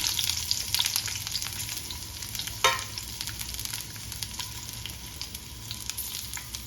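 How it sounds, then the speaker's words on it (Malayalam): Onions and spices, including cumin and coriander, sauté in hot coconut oil for a vegetable masala curry, giving a steady, close sizzle with light stirring scrapes and one sharper crackle, without talk. "ഉള്ളിയൊക്കെ ഒന്ന് വഴന്ന് വരുന്ന വരെ ഇതൊന്ന് വഴറ്റിയെടുക്കാം"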